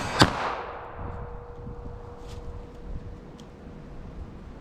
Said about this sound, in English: I just pull this thing off and I just start shooting.